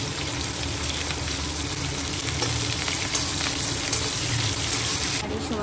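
Chopped onion and slit green chilies fry in hot oil or ghee in a loud, dense, continuous sizzle that stays close throughout, with a brief watery clatter near the end.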